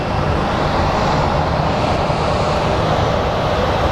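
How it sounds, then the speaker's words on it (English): A small CRJ regional jet taxis at Phoenix Sky Harbor International Airport, its engines producing a loud, steady, close roar that holds without a break. "there's a little CRJ waiting to taxi"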